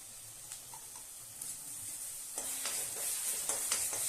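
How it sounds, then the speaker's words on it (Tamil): Ground tomato paste sautéing in oil in a pan for bitter gourd curry, with a soft steady sizzle and a few scraping stirs of a spoon, growing slightly louder toward the end. "இந்த எண்ணெயிலேயே நல்லா வதக்கி விட்டுறலாம்."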